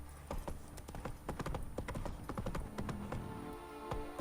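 Hoofbeats of a horse trotting in The Witcher 3, an uneven clip-clop rhythm, close and fairly loud over a game ambience.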